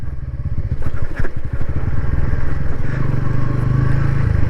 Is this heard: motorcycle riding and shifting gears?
yes